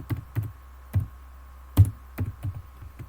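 Someone typing a resume on a computer keyboard in a quiet room: a handful of separate soft key taps with uneven gaps over a low steady hum.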